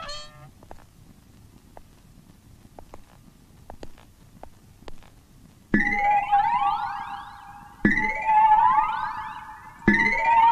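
A factory siren sounds three times, each a loud wailing blast that starts abruptly and rises in pitch, following a quieter stretch with scattered faint clicks.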